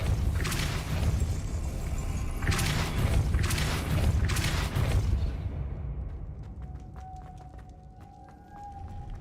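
Spell impacts from a wizard video game: a run of heavy, booming broadband blasts over a constant low rumble, followed by quieter sharp clicks and a faint tone as the bursts fade.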